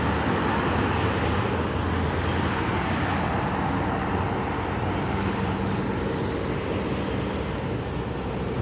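A car being parked on the lot of a driving school in Ajman, heard as a steady broadband roar of road traffic and engine noise, moderately loud and continuous throughout with no talking.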